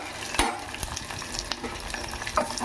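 Halved boiled eggs frying briefly in a pan, a crackling sizzle with quick stirring scrapes and clicks, close and steady over a few seconds, no speech.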